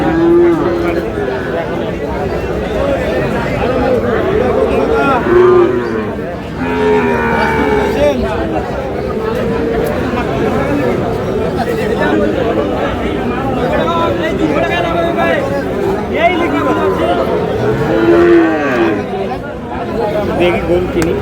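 Cattle, including Sahiwal bulls, moo repeatedly at a busy livestock market, loud and close, amid constant crowd chatter and bargaining voices.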